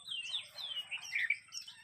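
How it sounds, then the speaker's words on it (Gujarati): Two birds call back and forth outdoors, a run of bright, high chirps and whistled notes in quick, uneven bursts, fairly faint and with no talking. "જો પર બે પક્ષી કેવું બોલી રહ્યા છે"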